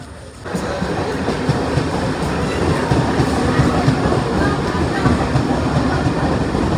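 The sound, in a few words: train running toward Kalyan station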